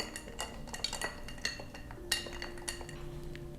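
A spoon stirs an Old Fashioned cocktail in a glass, giving a handful of soft, close clinks and taps against the glass in a quiet room.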